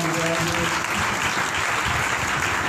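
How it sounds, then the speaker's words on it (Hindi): A church congregation at a daily prayer service breaks into loud, sustained applause, a dense and even roar of clapping from many people throughout. "आइए खुदाए पाक रूप के लिए जोरदार तालियां बजाएं।"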